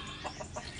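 A chicken among garden plants gives a few soft, quick clucks, faint against a quiet outdoor background.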